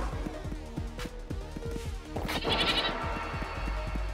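A goat in the video game High Hell bleats in a quavering, pulsing call that repeats and swells louder toward the end, heard alone without talking.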